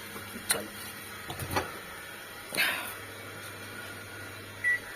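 A kitchen microwave oven heats papads, giving off a steady low hum with a few faint clicks and soft knocks scattered over the running drone.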